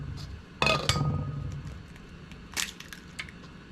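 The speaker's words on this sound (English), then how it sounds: "good thing I was going to crack that egg" Eggs cracked into a bowl for zucchini bread, a sharp crunchy crack followed by a second tap, then softer clicks and a small knock later on, close and fairly quiet with no talking.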